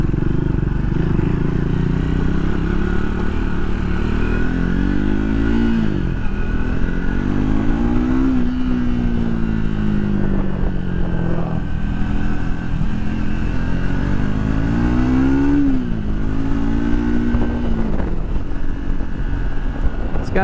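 A 2024 Triumph Speed 400 six-speed motorcycle engine drones loud and steady on the road, its pitch swelling and dropping as the rider rolls on and off the throttle, with wind rush throughout.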